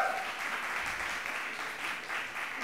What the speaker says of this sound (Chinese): 给他们拍拍手，好不好？